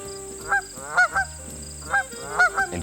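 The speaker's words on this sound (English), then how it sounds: "Or the baying honk of a goose." A goose honks loudly and nearby in a series of about six sharp, nasal calls, some given in quick pairs, with no talking.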